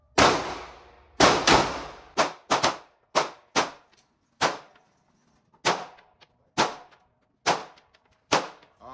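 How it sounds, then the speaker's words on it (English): About a dozen separate gunshots are fired at a target during a shooting range training class, each a sharp crack ringing out at uneven intervals with clear silence between them. "we're going to put 8 shots in the mass of that target"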